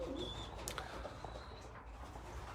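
Racing pigeons coo softly inside a race loft, low murmuring calls over a steady room hum with occasional faint rustles and a brief chirp.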